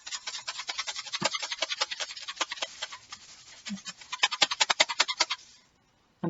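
Ground coffee shaken inside a plastic Tupperware tub, giving a dry granular rattle in quick bursts of scratchy shakes that pause briefly and then speed up before stopping, close and alone.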